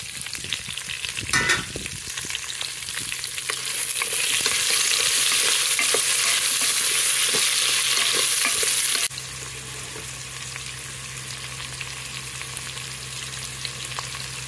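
Curry leaves and onion pieces frying in hot oil, a close, continuous sizzle with stirring scrapes and clatter, swelling louder for several seconds before easing back to a softer steady frying hiss.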